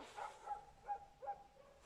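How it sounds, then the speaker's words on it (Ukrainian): Dogs barking at a distance outdoors, about four faint, evenly spaced barks in quick succession. "Там собаки лаять"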